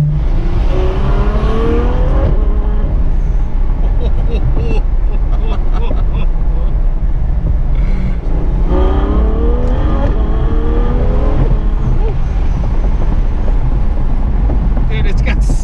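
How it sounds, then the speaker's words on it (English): A Ferrari F12 engine revs high while driving, its loud, close roar rising in pitch through several repeated sweeps over a steady drone, with some talk over it. "Got to get up in the rev ranges, man, for it to sing until you put a proper exhaust on it"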